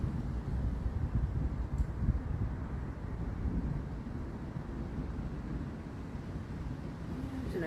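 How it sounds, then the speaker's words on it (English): Constant low thunder rumbles through an approaching derecho storm, a steady near-continuous roar with heavy low-end weight and gusty wind buffeting the microphone throughout. "It's a constant thunder."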